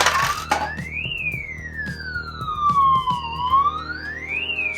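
Electronic rising-and-falling siren tone from the noise maker of a Sankyo Shark Fever pachinko machine, sweeping up and down twice, loud and close, over a steady low hum and scattered mechanical clicks.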